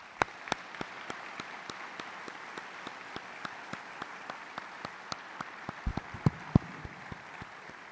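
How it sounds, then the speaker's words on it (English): Scattered applause from a modest audience at a museum Veterans Day event, individual claps sharp and distinct against a quiet room, keeping a loose, sparse rhythm throughout. "I ask those in attendance to give our veterans a big round of well-deserved applause."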